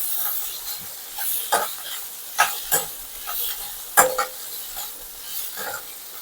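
A ladle stirs cooked spiny gourd in a sizzling pan, scraping the metal in a series of irregular strokes with a few sharper knocks, over a constant hiss of frying.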